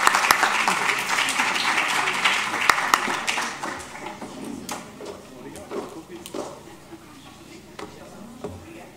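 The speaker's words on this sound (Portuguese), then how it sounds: "E uma salva de palmas para ela, como é evidente" An audience applauds a professor introduced at a digital health conference: dense, broad clapping fills the first seconds, then thins and fades into scattered claps.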